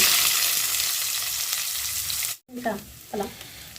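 Onions added to hot oil with whole cumin seeds: a dense frying hiss fills the first part, drops out abruptly, then gives way to brief stirring clatter.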